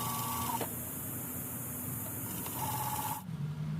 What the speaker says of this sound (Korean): 네 군데 시접을 같은 방향으로 꺾어서 박아줍니다